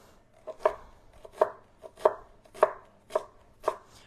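A knife chops shallot on a cutting board in about seven crisp, evenly spaced strikes, close and clear with quiet pauses between cuts.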